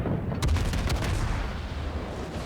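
A volley of naval gunfire from the German battleship Tirpitz in World of Warships: one sharp, booming report near the half-second mark with a rumbling tail, followed by a couple of fainter, more distant shots under steady background noise.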